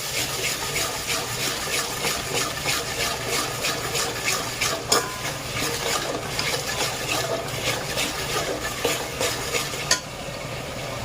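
Onions with salt fry in a pan for an egg dum biryani, a steady loud sizzle under repeated scraping stirs throughout, no talk.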